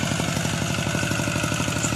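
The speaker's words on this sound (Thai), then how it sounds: "ด้วยการใช้รถไถนาเดินตามนะครับ" A walk-behind tractor works a rice field, its small engine chugging in a steady, rapid rhythmic putter, loud and close throughout.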